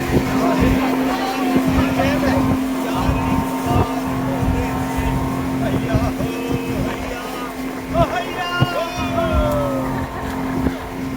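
A tour boat's motor drones loudly and steadily while it carries passengers between islands on a Thailand four-island tour, with people talking over the engine noise throughout.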